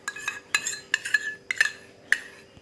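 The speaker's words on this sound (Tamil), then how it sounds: "ஸோ இந்த கீ எல்லாமே வந்து நம்ம இதில் சேர்த்து வந்து நல்லா மிக்ஸ் பண்ணிக்கலாம்." Ghee is mixed into a roasted rava laddu mixture, a spoon clinking and scraping against a metal bowl in short, irregular taps and chinks, close and clear with no talk.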